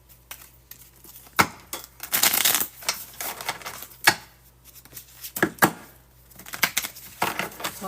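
Oracle cards being shuffled by hand, with sharp slaps and riffling bursts at an irregular pace, close and fairly quiet, with no talking.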